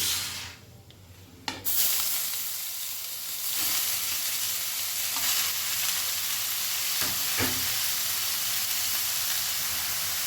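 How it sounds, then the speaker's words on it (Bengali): Chopped bottle gourd is tipped into hot oil tempered with black cumin seeds. A quiet, hissing pan suddenly erupts into a loud, close sizzle, then settles into steady frying with occasional stirring clatters and no speech. "এবারে কেটে রাখা লাউ আমি দিয়ে দিচ্ছি"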